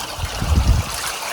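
Water trickles and gurgles steadily through a gold prospecting sluice in southern Colorado's San Luis Valley, a brief, close, continuous rushing flow.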